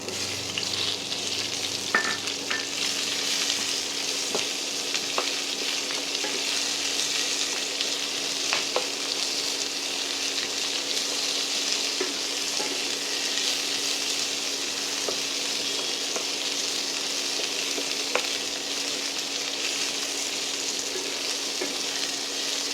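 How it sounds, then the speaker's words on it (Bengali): Thinly sliced medium onions fry in oil in a pan for a meat khichuri, giving a steady, even sizzle with faint stirring scrapes and no talking. "পেঁয়াজগুলো একটু ভাজা ভাজা হোক"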